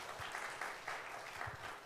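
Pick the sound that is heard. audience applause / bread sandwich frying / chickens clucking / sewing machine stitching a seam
audience applause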